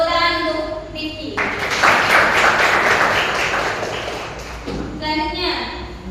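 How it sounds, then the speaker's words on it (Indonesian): A classroom group claps for a student for a few seconds, a burst of many hands that swells and fades, bracketed by talking before and after. "Tepuk tangan untuk Rifki"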